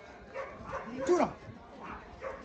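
At a dog market selling Labradors and huskies, dogs give short yips and whimpering barks, moderately near, scattered under people talking.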